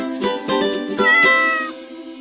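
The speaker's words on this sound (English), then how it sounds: "over here is my cat Wessie" A pet cat meows several times in close succession at close range, drawn-out harmonic calls with one longer wavering meow, heard alone with no talking.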